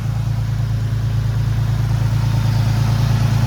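A Nissan 370Z from a wrecked, rebuilt car idles steadily, a smooth low engine hum held constant and close with no talking.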